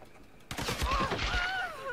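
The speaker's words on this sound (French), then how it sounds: "Et mitraillette." A machine gun in the Tomb Raider game rattles off a rapid burst of shots that sits at middling loudness, while a whistling tone glides along behind it.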